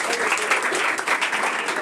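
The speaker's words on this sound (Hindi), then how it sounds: "एक बार जोरदार ताली बजाइए बच्चे के लिए" Loud, dense applause from a crowd at a Bihar board matric exam prize distribution ceremony as a student receives a certificate, steady clapping throughout the short stretch with voices mixed in.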